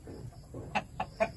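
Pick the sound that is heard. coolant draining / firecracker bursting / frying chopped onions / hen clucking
hen clucking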